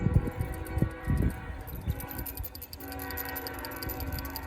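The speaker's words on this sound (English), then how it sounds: "of course the train's got to go off in the background now" A train rumbles and rattles in the background with a sustained horn-like tone, while closer knocks and bumps sound in the foreground.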